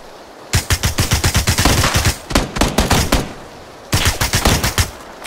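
Rapid bursts of automatic gunfire crack from a PUBG match, several clustered volleys with a short pause between, loud and close with no talk.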